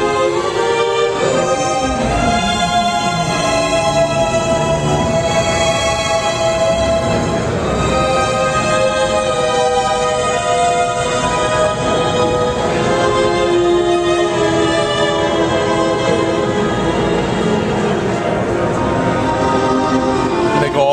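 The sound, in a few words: LA Scoring Strings sordino legato string samples playing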